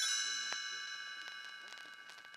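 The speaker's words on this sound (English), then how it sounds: "You will know it is time to turn the page when you hear the chimes ring like this." Page-turn chimes from a read-along storybook ring out in a sustained bright tone with a few soft struck notes, fading gradually and heard alone.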